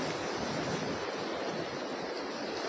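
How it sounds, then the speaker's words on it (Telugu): Steady roar of big ocean waves breaking on Kotha Koduru Beach, Nellore, continuous and loud, with wind noise mixed in. "అలలు అయితే భలే వస్తున్నాయి అనుకోండి, పెద్ద పెద్ద అలలు"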